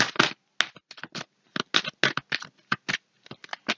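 A deck of tarot cards is shuffled by hand, producing a quick, close series of crisp riffling and slapping card sounds in uneven bursts, with no voices.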